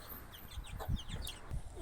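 Clucking from a fighting-breed rooster kept alongside pigeons, a few short bird calls rising over a low, steady outdoor background.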